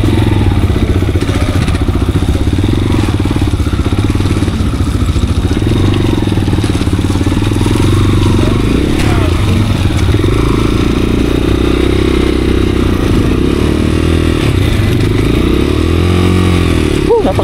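A CFMOTO Dual 230 motorcycle rides in first and second gear on a slippery surface where the tyre slides. Its engine drones loud and steady throughout, with throttle swells and clatter. There is no talk.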